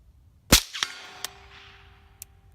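A single suppressed shot from a short-barreled FN PS90 rifle cracks sharply at an 80-yard target, followed by a faint impact and a few small metallic clicks and ticks in otherwise quiet surroundings.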